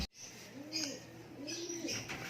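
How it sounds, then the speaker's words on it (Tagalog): Pigeons or doves cooing in soft, repeated rising-and-falling calls with faint chirps, fairly distant and quiet, during a bird-keeping session in Balatan, Camarines Sur. "Bantay ng ibon."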